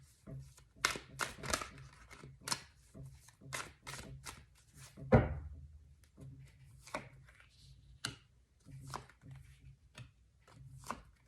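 Tarot cards shuffled by hand in close, rapid riffling bursts, with soft slaps as cards are drawn and set down, and one sharper knock midway; quiet and near throughout.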